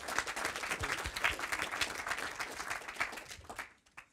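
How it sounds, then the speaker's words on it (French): Audience at a French HTML5 web developers' meetup applauds a speaker, a moderate burst of many hands clapping that fades out near the end. "On peut l'applaudir, ouais"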